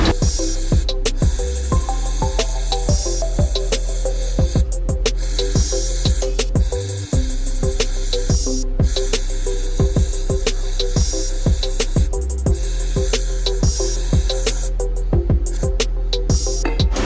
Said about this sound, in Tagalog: dito mag spray na tayo ng parts cleaner at i-observe nyo mabuti paano napakadali tanggalin yung grasa sa uniform ko